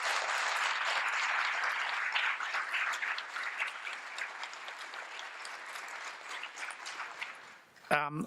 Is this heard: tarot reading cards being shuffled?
no